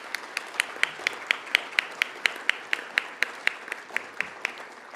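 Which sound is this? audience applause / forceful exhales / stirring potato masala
audience applause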